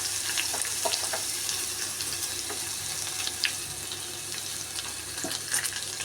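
Ground spice paste with curry leaves sizzles steadily in a pan while it is stirred for rasam, a constant hiss with faint scraping strokes throughout and no talk.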